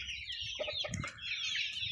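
Andijan black chicks cluck and peep with continuous high chirping and short clucks up close, with no talking.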